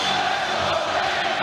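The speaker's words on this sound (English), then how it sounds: "Crowd on its feet. And a Let's Go Rangers chant going up." A packed hockey arena crowd roars and chants for the New York Rangers during the 1994 Stanley Cup Finals Game 7 against Vancouver, a dense, loud, unbroken wall of voices.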